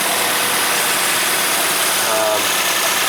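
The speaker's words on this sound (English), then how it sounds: "let it run, so it circulates through the engine." A 2004 Nissan Frontier with a 2.4L engine idles after water pump repair, a loud steady hiss-heavy running drone close to the engine bay.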